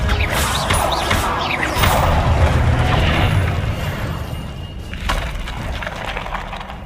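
The Depulso spell cast in Hogwarts Legacy lets out a loud whoosh and then a crashing, splintering wooden impact, with mechanical clatter trailing off afterward.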